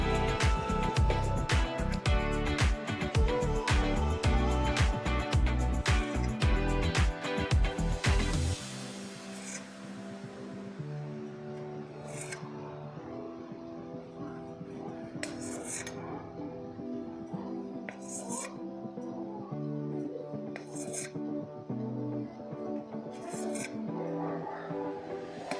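A knife slices a rolled log of layered khaja sweet dough into half-inch pieces after trimming both ends, with rapid, dense rasping cuts for the first few seconds, then quieter, sparse taps and scrapes.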